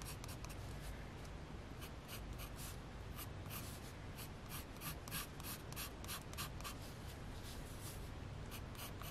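A pen or pencil sketching a bench on paper in a glue book, a steady stream of close, soft scratchy strokes with quick repeated marks throughout, faint and without talk.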